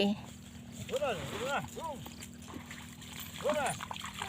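Water scooped from a tap-filled bathing tank and poured during an outdoor bath, a few bursts of splashing and pouring under a steady background hum, with someone talking throughout.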